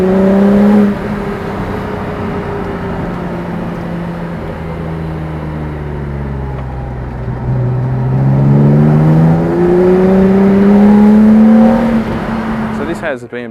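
A Datsun 240Z fitted with a BMW M engine and gearbox accelerates in a high gear, its engine note rising and sweeping steadily over about thirteen seconds, loud and close, with voices talking over it.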